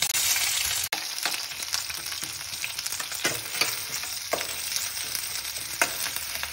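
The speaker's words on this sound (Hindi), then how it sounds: "एबे आमे एतर डालचिन गोटे तेजपत्र प्याज को पकेबा" Cinnamon, bay leaf and onion fry in hot mustard oil with a steady, close sizzle, broken by a few sharp stirring clicks and scrapes; no one speaks.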